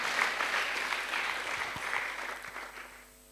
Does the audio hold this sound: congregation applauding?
yes